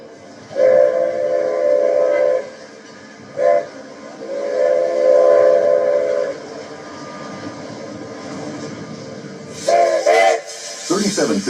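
Santa Fe 3751, a steam locomotive on a run from Wellington to Topeka, sounds its whistle loud and close: two long blasts, a short one and another long one, then two more blasts later, over the rumble of the running train.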